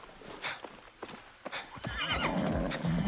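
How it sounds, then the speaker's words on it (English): A horse in Far Cry 6 whinnies with a rising, wavering neigh, preceded by a few hollow clip-clop hoofbeats, fairly close and loud against a steady background. "I bet there's a horse out here just chilling."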